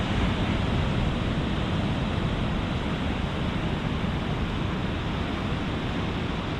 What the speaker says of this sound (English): Red flags flying today for this rough waves here on the Gulf